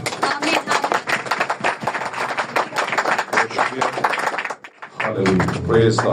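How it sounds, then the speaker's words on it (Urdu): A congregation claps enthusiastically to welcome a preacher at a church service, dense rapid applause filling the space before a short pause and a voice speaking over a renewed swell. "خدا کے کلام کے لیے اور خدا کے بندے کے لیے بھرپور تالیوں کے ساتھ استقبال کیا جائے"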